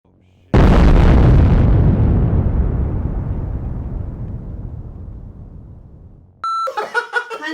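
A single loud, close gunshot-like blast hits sharply and decays in a long rumbling tail over several seconds, followed by a short burst of voices at the end.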